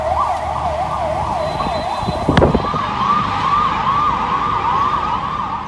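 An ambulance siren wails loudly in India during the COVID pandemic, its pitch sweeping rapidly up and down in a continuous yelp, with a sharp bang midway and traffic rumble beneath.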